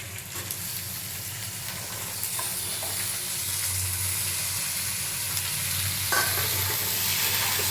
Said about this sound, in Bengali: এবার আমি দিয়ে দেবো পেঁয়াজ কলি